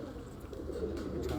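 Pigeons coo softly and steadily in low, burbling tones, close by and fairly quiet, in a pigeon keeper's loft in Multan, with no speech over them.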